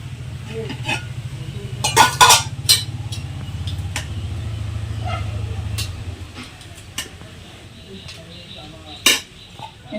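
Rice is served onto a plate at home in a Bengali kitchen, with a few sharp clinks of utensils and dishes over a steady low hum that fades partway through, while someone talks nearby.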